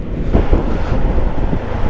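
Steady low rumbling wind buffeting over engine drone while riding a Yamaha XMAX 300 scooter, continuous and fairly loud with no talking.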